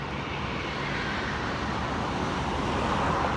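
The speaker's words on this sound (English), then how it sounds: "You can hear the traffic here" Roadside traffic near Myrtle Beach forms a steady broadband roar of passing vehicles, moderately close and continuous, swelling slightly toward the end with no voices.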